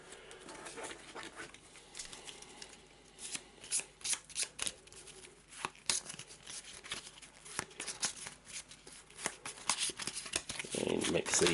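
Eldritch Horror game cards are mixed by hand. A steady, close shuffling patter of riffles and card slides keeps going, rising in bursts.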